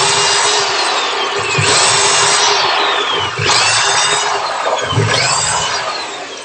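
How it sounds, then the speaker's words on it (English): A power drill boring dowel holes through a doweling jig into wood in a woodworking shop, whining loudly and steadily with three rising pitch sweeps as the bit bites and frees across several holes. "After drilling the first hole, I put in a dowel, slip the jig on"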